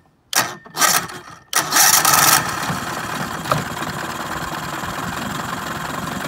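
An outboard motor that won't pump water, started in a test bucket: a couple of short cranking bursts, then it catches with a loud roar and settles into a steady, close idle.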